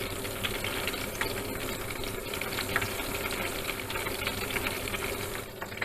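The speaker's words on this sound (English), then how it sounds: "Let's fry them until they are light golden brown" Vegetables for Sicilian caponata frying in hot high-oleic oil, a steady dense sizzle and crackle heard up close and unbroken, with no voices over it.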